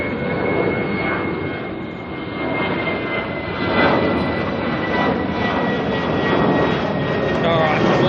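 A Jetstar airliner taxiing or rolling at Auckland Airport gives a steady, loud jet engine roar across the whole stretch, swelling slightly midway, with a faint voice underneath.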